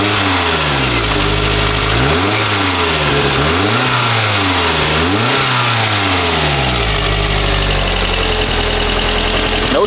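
A car engine revs repeatedly in loud, rising and falling sweeps over a steady idle, close up and without talk.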